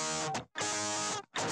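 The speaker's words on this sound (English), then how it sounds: "Just distortion alone sounds like this." Harsh, buzzy distorted guitar chords ring loudly in three bursts, with brief silences between them and no voices.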